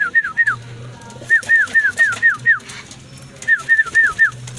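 Racing pigeons cooing at the loft in clustered runs of soft rolling coos, with quiet pauses between groups and a low background hum.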